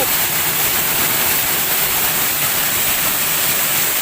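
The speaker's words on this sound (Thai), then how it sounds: "นี่คือน้ำตก" Doi Pu Muen waterfall, a ten-tiered cascade, roars as a steady, dense rush of falling water that fills the whole clip, close and unbroken, with no voices.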